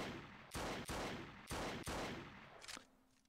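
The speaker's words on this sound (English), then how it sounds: "So let's go ahead and shoot one of these bastards." Gunshots in the video game Unity Trash Zombie Shooter: four sharp, loud shots in pairs, each with a short decay, followed by a quieter clatter and a faint lingering tone.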